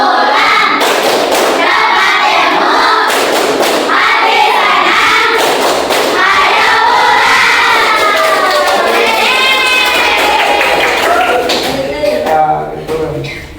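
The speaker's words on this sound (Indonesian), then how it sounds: "Mari kita mulai tepuk pulang." Schoolchildren in a classroom doing the tepuk pulang clapping routine: a dense mix of rhythmic hand claps and thumps under loud chanting and shouting voices, tapering off near the end.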